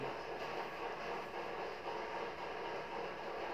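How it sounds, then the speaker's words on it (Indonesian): Steady, dense hiss of rain, a constant broadband wash with no distinct events, fairly quiet and unchanging throughout. "ada suara berisik hujan"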